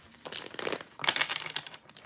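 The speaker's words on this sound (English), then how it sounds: "Let's get our cards shuffled now." Close, papery crinkling and rustling in two quick bursts, like a deck of playing cards being shuffled by hand.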